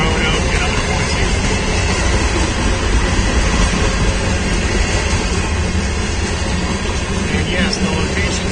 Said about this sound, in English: this train is headed towards Knoxville